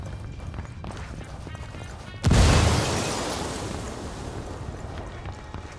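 A frag grenade goes off in a video game: one sudden, loud blast with a deep boom that rolls off into a long rumbling tail over faint background ambience.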